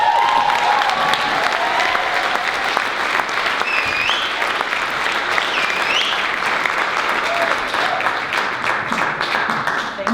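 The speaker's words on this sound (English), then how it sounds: "Big round of applause for Deirdre." A live audience bursts into sustained, loud applause at a talk on sexual self-esteem, dense clapping filling the room throughout, with faint voices or cheers mixed in beneath.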